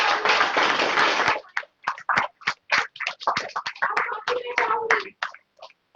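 An audience at a team success celebration in Prayagraj applauds an award winner: a dense burst of clapping thins into scattered individual claps that trail off.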